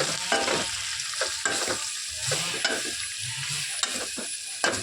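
Shredded cabbage stir-frying in a pan as a spoon stirs it, giving rhythmic scraping strokes over a light sizzle, with occasional metallic taps, close and fairly quiet.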